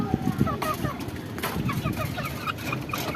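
Wet chickens cluck in steady rain, short clucks and chirps coming repeatedly over a constant hiss of rainfall, moderately close.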